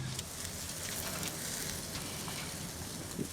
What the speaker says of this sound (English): Like, you'll know just by the sizzle that's too hot, that's not hot enough.